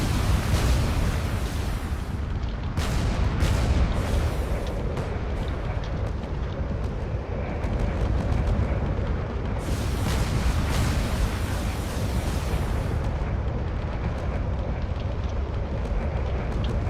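Spaceship under constant bombardment in a space combat video game, a continuous heavy rumble of explosions with sharp bursts and crashing debris as the hull is torn apart, loud and unbroken throughout.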